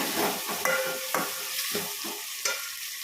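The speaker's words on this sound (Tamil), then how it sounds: "இப்போ தக்காளி நல்லா கிண்டிடணும்." Tomatoes sizzle in a hot pan while a utensil stirs them, with a few sharp scraping clicks against the pan over the steady frying hiss.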